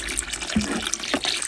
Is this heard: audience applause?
no